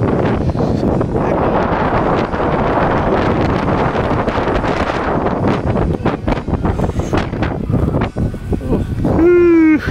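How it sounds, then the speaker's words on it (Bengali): Strong Himalayan wind whipping powder snow near Kibber, loud gusting roar buffeting the microphone throughout, with brief voices and a short tonal sound near the end. "খুব হাওয়ার সাথে বরফ উঠছে, পুরো পাউডার বরফ।"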